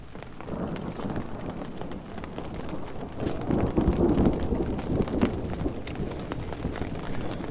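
Thunder rolls in a low, sustained rumble during a thunderstorm at a woodland campsite in Algonquin Park, with steady rain and wind all around and no talking.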